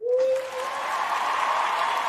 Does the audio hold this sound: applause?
yes